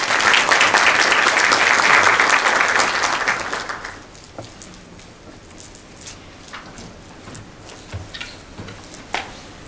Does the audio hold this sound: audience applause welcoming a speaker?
yes